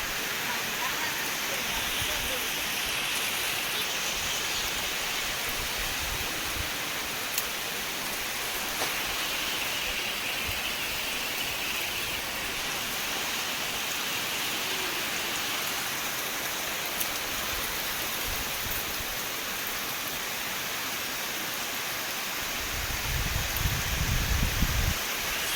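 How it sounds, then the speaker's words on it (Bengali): Heavy rain pours down in a steady, dense hiss that stays level for a long stretch, with a low rumble near the end. "খুব বৃষ্টি"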